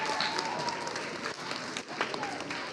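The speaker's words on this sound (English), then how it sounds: "Round of applause for Holy Trinity one more time." Audience applause for the Holy Trinity group at an elementary school event, a steady wash of clapping held at moderate loudness throughout, with a few brief voices over it.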